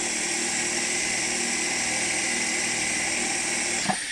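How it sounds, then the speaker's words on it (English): A Foredom rotary tool spins a burr against sandpaper while stone-setting tools are made: a steady, high, even whine runs throughout with a faint scrape near the end. "So as it's spinning, I'm just going to run it along the sandpaper,"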